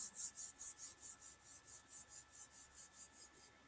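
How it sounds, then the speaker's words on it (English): Hands rubbed briskly together during a guided meditation, a soft, quiet rhythmic swishing of about a dozen even strokes that gradually fade. "when you are ready, just rub your hands together."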